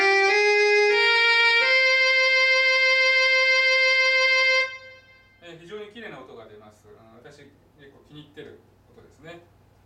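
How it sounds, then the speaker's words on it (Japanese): A wind synthesizer's violin-like tone plays a few sustained, stepping notes for about five seconds, then a person speaks afterward. "次はですね、バイオリンの音ですね。"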